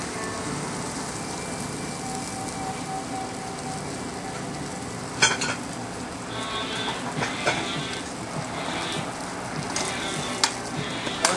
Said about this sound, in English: A nice piece of salmon, so we're gonna sear it on both sides